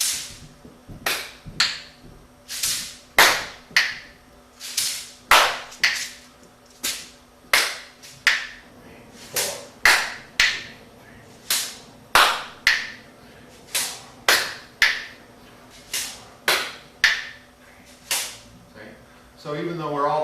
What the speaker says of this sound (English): I'll clap, you do the second beat, you do the last beat